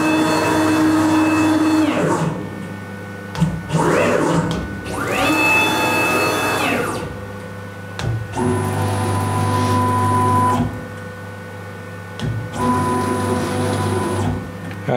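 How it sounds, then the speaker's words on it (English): A Blue Elephant 1325 CNC router under manual control: motors whir and whine in several separate moves of a few seconds each, rising and falling in pitch, with short pauses between. "you can just manually drive the machine around"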